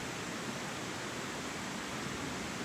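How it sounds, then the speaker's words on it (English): A creek flows right beside a stealth campsite along US Route 60 in Virginia, a steady, soft broadband rush of running water with no voices, constant and unbroken. "that noise is the creek just flowing by me"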